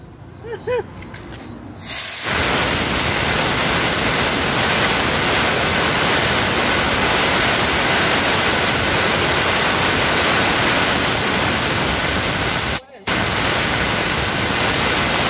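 A motorcycle part is blasted with a mix of wet sand and water, giving a loud, steady hissing rush that runs almost unbroken for many seconds with one brief cut near the end, after short talk at the start.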